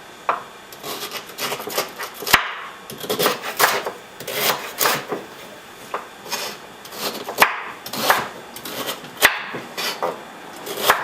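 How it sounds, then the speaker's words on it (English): Knife chopping vegetables for Mexican raw rice on a wooden board, a run of sharp close cuts and scraping strokes in uneven bursts, with no talk. "Now we're just going to chop these up and put them into our processor"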